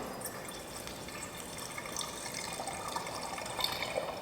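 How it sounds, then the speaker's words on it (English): Brazil nut milk pours steadily in a continuous splashing trickle for several seconds, close by, with no talking. "you take what you have thus far and you pour it"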